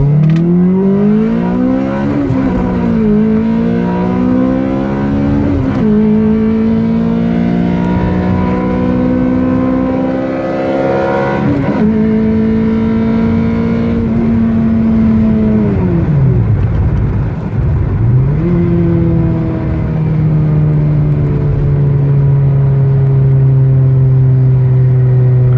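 A 2006 Toyota Corolla XRS engine with closed exhaust and reflashed ECU revs up through repeated acceleration pulls, pitch climbing steadily then dropping between shifts, loud and close, settling into a steady drone at the end.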